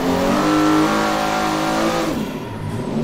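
A Nissan S15 drifting at Bikernieki revs hard, its engine note loud and close with sweeping harmonics that hold steady, then dip and climb again near the end; no voices.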